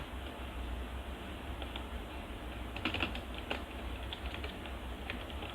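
Someone types a database query on a computer keyboard, producing quiet, rapid clicking keystrokes over a steady background hiss, with a slightly louder flurry midway.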